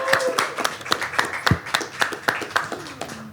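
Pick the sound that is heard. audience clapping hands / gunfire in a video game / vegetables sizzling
audience clapping hands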